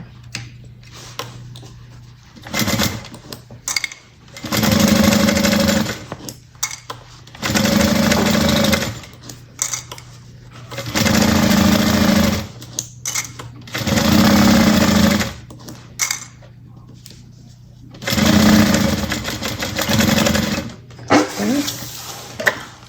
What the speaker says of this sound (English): And let's get this sewn here.